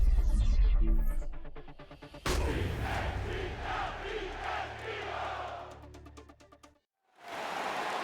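A roaring stadium crowd of 60,000 in the Madden NFL 27 video game swells in loud and steady after a brief tonal opening, then drops out into a short silence before surging back.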